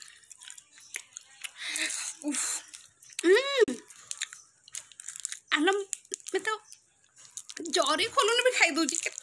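Chocolate and jelly sweets chewed in a comedy sketch, with wet, squishy bites and crunches scattered between bursts of talking close to the mic.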